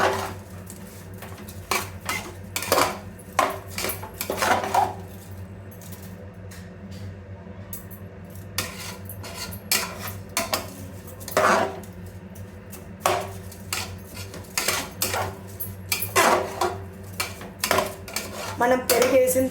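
Yogurt gets stirred into a pot of meal maker kushka, with repeated clattering spoon-on-metal knocks and scrapes in irregular bursts over a low background hum.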